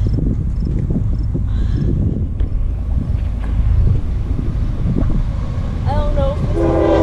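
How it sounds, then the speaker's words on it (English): A slow freight train with Pan Am Railways heritage locomotives on CSX rumbles past close by, a loud continuous roar with wind buffeting the microphone, and a horn sounding toward the end. "And there's a train coming from the other way, I can hear."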